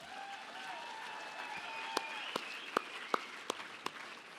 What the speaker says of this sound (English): Let's give them all a round of applause if we could